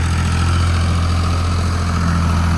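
A tractor engine runs steadily in a field where mustard is being ploughed, a loud, continuous low drone with a constant rumble and no change in pace, very close.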